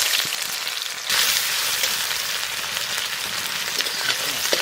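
Whole cumin and chopped onion fry in mustard oil for Bengali chicken kosha, a steady dense sizzling hiss with a slight jump in loudness about a second in, continuing evenly and close by.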